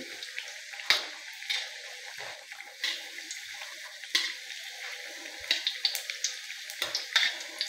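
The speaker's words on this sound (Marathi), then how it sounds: "थोड्या वेळान परतून घ्या ही कापां तेलातली." Potato slices frying in hot oil for batata kapa, a steady crackling sizzle with irregular sharper pops and stirring clatters, close and fairly quiet with no talking.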